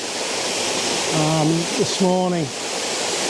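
Waterfall heard as a loud, steady broadband rush at close range throughout, with someone speaking briefly over it.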